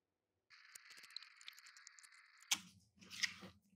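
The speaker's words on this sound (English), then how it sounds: "let's take the tape off for the motors" Tape peels and crackles off the motors of a CNC router in short rasping tears, close and fairly quiet, ending with a couple of sharper rips.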